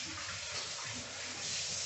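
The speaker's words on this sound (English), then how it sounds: "I'm just going to rinse my fingers while Al shows you that." Tap water runs steadily into a kitchen sink while fingers are rinsed under it, a soft, brief, continuous splashing heard close and without talk.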